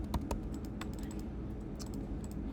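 Quick keystrokes on a computer keyboard, a short burst of crisp close clicks followed by a few scattered taps over a soft background hum.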